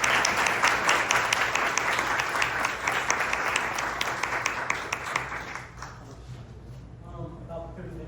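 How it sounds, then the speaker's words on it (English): Audience applause for a presenter at a city charter reform commission meeting, a dense steady round of clapping that fades and thins out toward the end, with some talk near the close. "let's give our presenter a round of applause"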